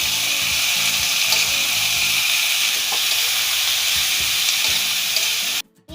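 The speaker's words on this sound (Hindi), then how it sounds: "अब हम इसमें गाजर और शिमला मिर्च डाल लेंगे और थोड़ी देर तक फ्राई कर लेंगे जब तक ये सॉफ्ट ना हो जाए।" Carrots and capsicum fry in a pan, a loud steady sizzle and hiss that runs unbroken before cutting out abruptly at the very end.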